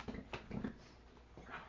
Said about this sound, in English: Got a wild pup over here.